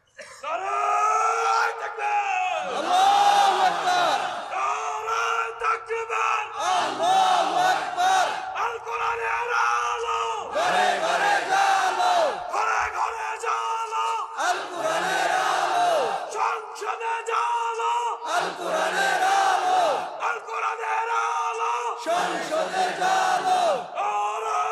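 A large crowd chants slogans in loud, rhythmic unison, bursts of massed voices rising and falling in repeated phrases with brief gaps between them, filling the space throughout.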